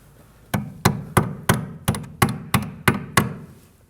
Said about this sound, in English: we're gonna use a hammer and we're gonna tap it into place